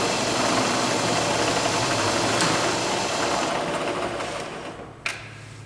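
Southwestern Industries SWI Trak DPM three-axis CNC bed mill with MX3 control, spindle running: a steady, continuous mechanical hum and whine that holds evenly throughout, then eases slightly near the end with a brief click.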